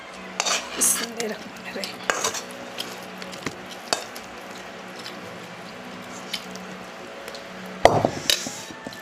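Food heated in a kadai being poured out, with metal clinks and scraping of utensil against the pan, light sizzling underneath and a louder clatter near the end; a voice speaks briefly.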